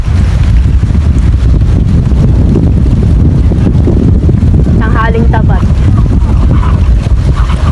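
Steady wind buffets the microphone throughout, with a brief voice speaking near the end.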